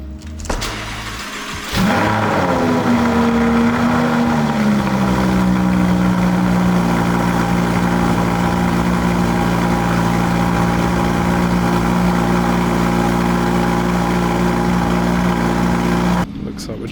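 Lamborghini Huracan engine starting with a sharp burst, then settling into a loud, steady idle rumble up close that holds for many seconds.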